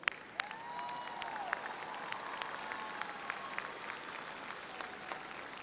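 A graduation commencement crowd gives a round of applause for the reader of the graduates' names, a soft, distant crackle of many hands, steady throughout with scattered sharper claps.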